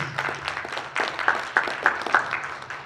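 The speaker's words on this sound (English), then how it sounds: "Let's give Generation Z a big round of applause, please." Town hall audience applauding, a smallish group clapping in uneven bursts with a few sharp nearby claps standing out over a low steady hum.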